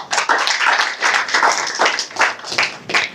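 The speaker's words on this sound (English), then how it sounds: "Can we have a round of applause?" Audience clapping at the Digital Economy Policy Guide launch ceremony, a steady, moderately loud burst of many hands applauding together with no one speaking over it.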